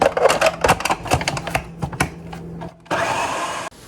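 Blender churning broccoli cheddar soup in short bursts and pulses, then a steady loud whir near the end that cuts off abruptly.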